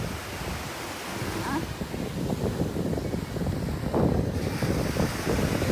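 Surf and steady wind on a Punta Cana beach during a July sargassum season, with a continuous broadband wash of breaking waves and gusty wind rumble across the microphone, fairly loud and unbroken throughout.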